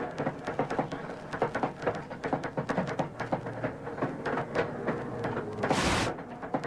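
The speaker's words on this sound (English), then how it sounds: "What you're hearing is the shattered Universal clanging against the floor pan of the vehicle." A shattered universal joint on a race car at the 1993 Tooheys 1000 clanging against the floor pan, a rapid irregular metallic rattle and banging over a heavy engine roar and vibration, fairly close and continuous throughout.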